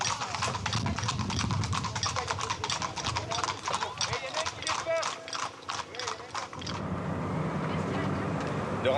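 Racing horses gallop in a fast, steady drumming of hooves that runs through most of the stretch, loud and close, with a commentator-style voice talking over it before the pounding fades.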